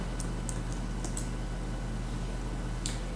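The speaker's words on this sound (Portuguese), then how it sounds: "Você vai lá na tabela e começa a digitar o número" A few faint, scattered keystrokes tap on a computer keyboard as a number is entered into a table, mostly in two short bursts over a steady low hum.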